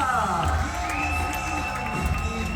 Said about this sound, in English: now a big round of applause for our team members from China